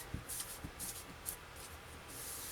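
Paper is creased and folded by hand for a scrapbook album page, with soft rubbing and sliding strokes and a few sharper crisp creases scattered across a quiet close-up span, no talking.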